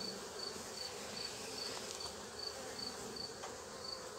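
Dense, steady buzzing of a honeybee colony at an open beehive, close and continuous, with a faint repeating high beep in the background and no voices.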